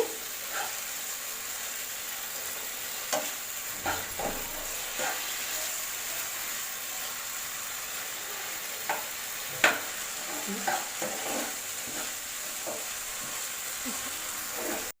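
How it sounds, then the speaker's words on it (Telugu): Ingredients for a masala paneer curry fry in a pan, giving a steady close sizzle broken by scattered clicks and scrapes of stirring, with no one talking. "కాస్త దాకా ఫ్రై చేసుకోవాలండి ఇవి"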